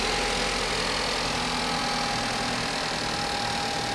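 A 2013 Chevy Malibu's 2.5-liter Ecotec engine runs steadily under the open hood, a close, constant hum with a faint whine and no voices.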